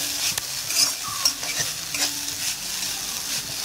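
Ground coconut paste with mustard seeds and curry leaves is stirred in hot coconut oil for a kothanchakka and green gram thoran, giving a steady close sizzle broken by a few sharp scrapes of the spoon against the pan.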